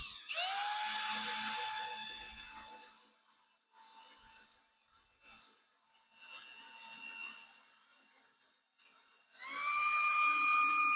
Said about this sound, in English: Then you can start speeding up with it with the drill.